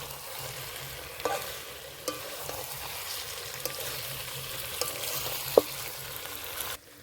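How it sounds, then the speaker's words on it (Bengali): Chicken and young jackfruit frying in a pan, a steady close sizzle broken by several sharp scrapes and knocks of a spoon stirring the pan, with no talking. "দেখুন এঁচড় আর মাংসটা ভালো করে কষে নিয়েছি"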